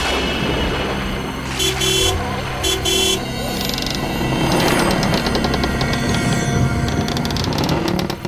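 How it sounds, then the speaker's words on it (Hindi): A car horn honks twice in short bursts over a noisy, clattering background with mechanical rattling. "उसे क्या हॉर्न सुना ही नहीं देता?"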